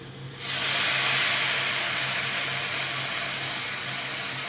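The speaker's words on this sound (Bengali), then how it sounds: "চালটা আমার একদম ভাজা ভাজা হয়ে গেছে আমি এবার জল দিয়ে দেব" Water hits a hot pan of fried rice and erupts into a loud, sustained hiss of steam that stays strong and only slowly eases off.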